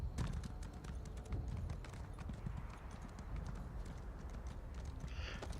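A horse trots in The Elder Scrolls Online, its hooves clip-clopping in a quick, steady rhythm that runs close and clear throughout, with no talking.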